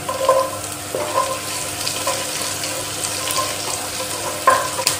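Green chillies are tossed into a pan of sizzling ginger and garlic, crackling at close range with a few sharp spattering bursts and scraping stirs.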